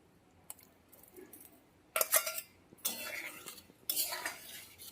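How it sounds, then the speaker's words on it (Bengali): Boiled dal and fried paneer are stirred together in a pot with a metal spoon. Quiet dabs give way to three louder bursts of wet scraping and clinking against the vessel, heard close up with no talking. "ভালো করে মিশিয়ে দেব সব কিছু"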